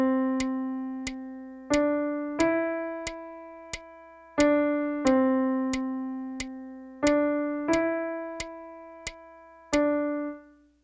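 Piano sounds a beginner rhythm example of a half note tied to a quarter note, single clear tones struck and held for three beats each, repeating several times against a ticking metronome-like click, bright and isolated.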